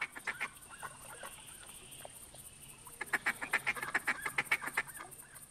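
Mallard ducks in The Hunter 2014 video game calling in bursts, sparse quacks at first and then a rapid run of loud, rhythmic quacks over a steady ambient background.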